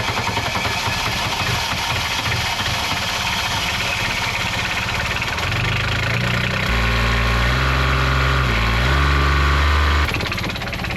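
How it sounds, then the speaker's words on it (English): A boat engine cranks and settles into a steady, loud idle, its low rumble becoming strong and tonal partway through and holding to the end; no talk. "I'm gonna go up there and start the engine"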